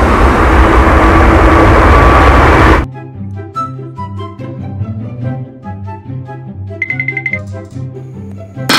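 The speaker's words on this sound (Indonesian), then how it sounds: "Pesawat terbang." A loud, roaring rush of airplane engine noise for a few seconds, then it cuts off abruptly and gives way to a tinkling musical tune.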